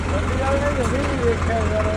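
A tractor stuck in a crowded market rumbles at idle with a steady, loud low drone, while people talk over it throughout.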